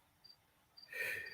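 A cricket chirping faintly in a quiet room, two brief short chirps followed by a louder burst of noise.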